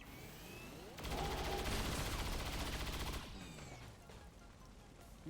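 Gunfire in XCOM 2 Long War of the Chosen: a dense, loud burst of rapid automatic shots lasting about two seconds, followed by lingering rumble and debris.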